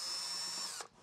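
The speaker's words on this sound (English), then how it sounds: "while I am using my drill to take these off" A power drill runs steadily as it removes a Hobie through-hole fitting from the bow of a kayak, a loud continuous whine that stops abruptly near the end.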